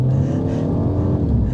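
A 2026 MINI John Cooper Works hybrid with 228 horsepower and a single exhaust gives a steady, loud engine drone that holds a constant low hum and never fades.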